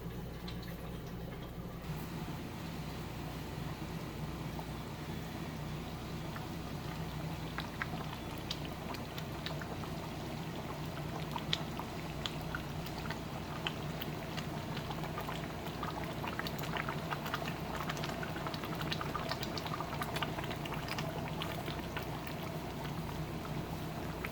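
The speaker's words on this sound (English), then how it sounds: "The other one is boiling here." A pot of palm nut soup boils steadily on the stove, giving a continuous bubbling, gurgling simmer with scattered small pops, close and even throughout with no talking.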